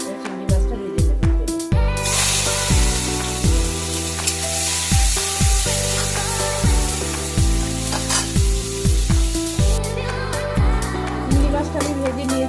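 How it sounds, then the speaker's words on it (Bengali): Shrimp rubbed with salt and turmeric frying in hot oil in a wok, a steady dense sizzle running under loud rhythmic background music. "কড়াইয়ের মধ্যে তেল আছে, এর মধ্যে চিংড়ি মাছটা আমি নুন হলুদ মাখিয়ে নিয়েছি। চিংড়ি মাছটা ভেজে নেব।"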